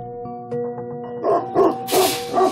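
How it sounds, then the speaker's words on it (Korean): A Tibetan mastiff barks at a visitor at a facility, a series of several loud, close barks that grow stronger toward the end, with no talk over them. "그렇게 해서 짖는 거죠."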